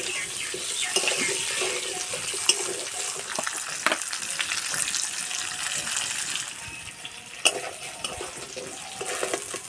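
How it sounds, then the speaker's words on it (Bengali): Potatoes frying in a pan give off a steady, close sizzle with frequent scraping stir sounds throughout, and no one speaks. "আলু ভাজা হয়ে গেছে"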